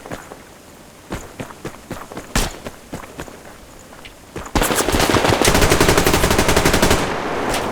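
Gunfire in the video game Survarium: sparse single shots and short bursts at first, then a dense, loud sustained automatic burst with rapid cracks over the last few seconds.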